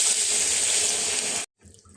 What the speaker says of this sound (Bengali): এখন আমি দিয়ে দিচ্ছি পরিমাণ মতো জল